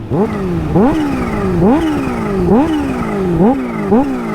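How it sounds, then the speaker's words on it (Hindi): Supercharged Kawasaki H2 superbike engine revved repeatedly, about six sharp blips rising in pitch and dropping back in a steady rhythm, loud and close with no voices. "भाई जैसे ही सुपर चार्जर एक्टिवेट होता है, this bike is ready to fly man."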